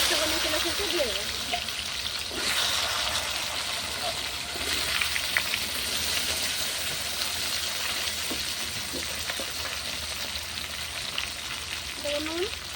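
Taro pieces fry in leftover fish-frying oil topped up with a little fresh oil over a clay stove, giving a steady, close sizzle for the whole stretch with a faint voice in the background.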